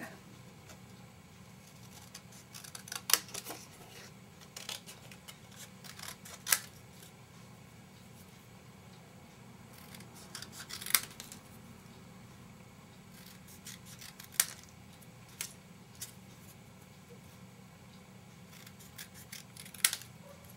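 Scissors cut through stamped paper for craft pennants in a quiet room, with sharp, crisp snips coming singly and in small clusters at irregular intervals and a soft rustle of paper between them.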